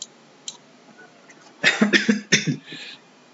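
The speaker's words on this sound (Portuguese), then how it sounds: "Essa tosse é inevitável" Several harsh coughs come in a quick cluster, near and fairly clear against a quiet room, preceded by a couple of faint clicks.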